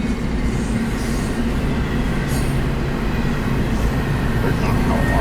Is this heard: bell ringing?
no